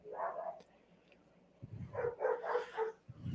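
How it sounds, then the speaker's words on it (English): Several dogs barking indoors at home. A handful of short, fairly faint barks arrive in a quick run after a single early bark. "That's my dogs."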